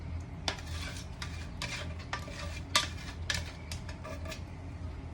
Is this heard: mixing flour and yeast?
yes